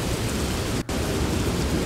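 Steady rain pouring on a bridge in the video game The Train, a dense, even hiss of falling water with low rumbling beneath, continuous apart from a split-second dropout midway.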